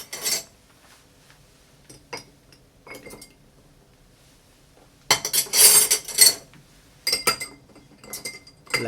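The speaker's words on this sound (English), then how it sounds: "I'm going to add a big rock of ice." A big rock of ice drops into a glass for a rye whiskey cocktail, giving bright clinks and rattles: scattered taps first, then a loud cluster of glassy knocks and a few more clinks after.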